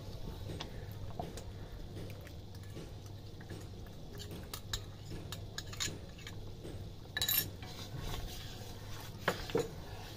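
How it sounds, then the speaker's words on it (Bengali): A spoon stirs ripe-tomato chili sauce, colored with Kashmiri chili or food coloring, as it thickens and spatters in a pan. Faint, scattered scrapes and light metallic clinks sound over a low steady hum. "ভালোভাবে নাড়াচাড়া করব।"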